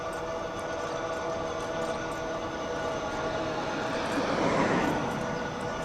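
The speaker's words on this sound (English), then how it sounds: "now if you listen, the motor doesn't sound quite as loud as it did when we started out" A motorcycle motor runs steadily during an early evening ride in 74-degree weather, a constant loud drone blended with wind rush that swells slightly toward the end, with no talking over it.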